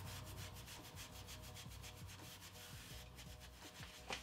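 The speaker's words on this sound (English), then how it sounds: "I'm going to rub that glaze into my wood grain." A Paint Pixie brush rubs glaze into wood grain, giving a steady close scrubbing and rubbing sound with rhythmic strokes throughout, and no voices.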